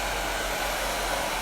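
Hair dryer fitted with a nozzle, blowing in a salon during a haircut, a loud, steady broadband whoosh close by, continuous and unbroken with no talking.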